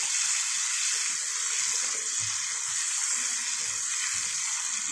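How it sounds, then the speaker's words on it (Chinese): Fish fries in a pan with scallion, ginger and chili pieces, a steady, fairly loud hissing sizzle of hot oil throughout with light bubbling underneath and no talking. "把鱼煎得两面金黄了，我下入葱姜和辣椒段，"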